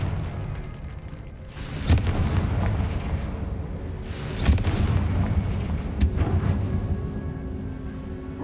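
Confringo blast spells exploding in the Hogwarts Legacy video game: three loud booming bursts at intervals over a dense rumbling game-sound background, with no talk.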